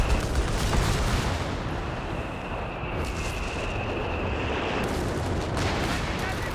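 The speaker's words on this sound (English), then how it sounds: "Bishop barraging out the back." A Bishop self-propelled artillery barrage pounds away during a Company of Heroes 3 multiplayer battle, a dense continuous rumble of gunfire and explosions filling the mix with no gaps, loud and close, with a faint whine running through the middle.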